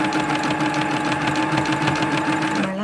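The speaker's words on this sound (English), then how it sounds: "pushing the treadle and hearing the sound of the machine" A treadle sewing machine runs steadily on a zigzag stitch, a continuous close mechanical whirr with rapid rhythmic clatter throughout, slowing briefly near the end.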